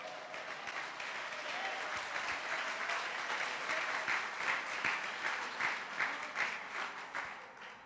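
Applause from a church congregation at a Nova Vida service, steady and fairly faint, rising slightly toward the end and carrying on alone without talk.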